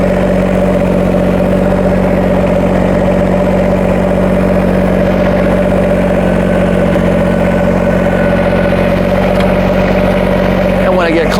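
Kubota BX compact tractor with front end loader idling at low RPM, a steady near diesel drone with a strong low hum throughout, with no talking over it.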